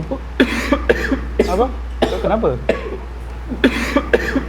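A person coughs several times in quick bursts, close by, between bits of conversation from nearby voices.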